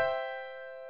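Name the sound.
digital piano note held with sustain pedal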